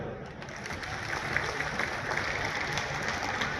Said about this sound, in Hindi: चलो सारे राणाओं के नाम की ताली हो जाए